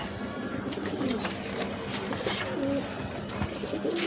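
Pet pigeons in a home loft in Lalbagh coo softly and continuously, a low murmuring bubble of several birds together with faint rustling, no voices.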